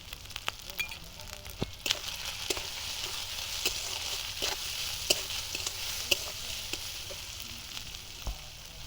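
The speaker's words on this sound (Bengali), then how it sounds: "ভালো করে একটু কষাতে থাকবে।" Rohu fish is sautéed in a pan with turmeric, chili powder, chopped tomato and cumin paste for a khamalu curry, giving a soft, steady sizzle broken by scraping stirs and light crackles.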